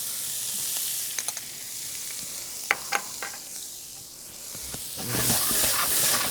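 Diced carrots, onions and celery for a mirepoix sizzle softly in hot oil, with a few sharp clicks of utensils and a hiss that swells toward the end.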